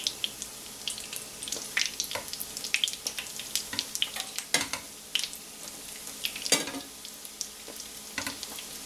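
Food sizzling and crackling in hot oil in a pan, a steady bed of frying with frequent sharp pops and spatters, heard close and alone without talk.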